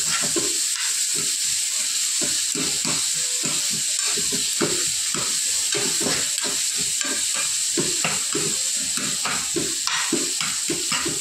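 Onion fries in a pan with a constant sizzle broken by rapid, rhythmic scraping and stirring strokes of a spatula, close and busy throughout the whole stretch.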